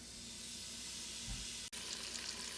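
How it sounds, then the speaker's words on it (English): Bacon sizzles in a pot on a stovetop, a steady quiet hiss with a brief clatter partway through. "Return the pot to the stove and add your bacon."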